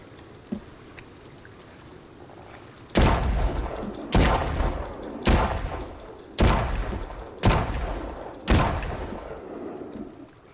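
Revolver fired in Sons of the Forest: six loud, single gunshots spaced about a second apart, each a sharp crack with a short ringing tail, following a few seconds of quiet ambient background.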